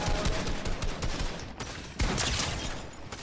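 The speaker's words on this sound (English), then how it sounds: "Oh, that was a long range headshot." Gunfire in Fortnite, including a long-range headshot, comes as dense rapid bursts of shots with sharp onsets near 1.5 and 2 seconds. It plays loud and continuous with no talk over it.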